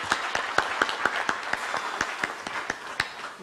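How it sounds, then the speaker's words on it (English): An audience at a foundation's official launch ceremony claps in a loose, sparse pattern of sharp hand claps that continue steadily throughout at moderate loudness, with no voices. "Let's clap for all ourselves."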